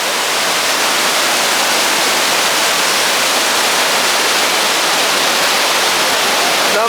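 Courtallam main waterfall roars as a steady, loud wash of broadband noise, dense and unbroken throughout, with no voices over it.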